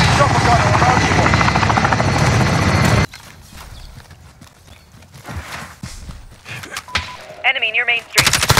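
A loud, continuous attack helicopter chopper gun roars in Call of Duty Modern Warfare for about three seconds, then cuts off abruptly, leaving quieter game ambience with scattered effects and brief radio-style voices.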